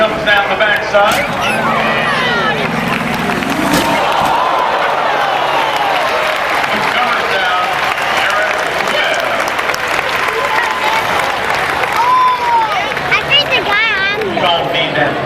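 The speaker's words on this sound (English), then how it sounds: "Give Eric a big round of applause as he comes down the backside." At a rough truck race in Tuscarawas County, a crowd gives sustained applause and scattered cheers from start to finish, while an announcer talks over the noise and engine sounds drift in from nearby.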